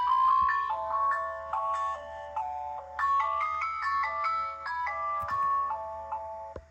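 A Bath & Body Works Pocketbac holder toy shaped like a red, white and blue ice cream treat plays a bright, electronic ringtone-like melody of steady stepped notes, clear and close, with no talk over it.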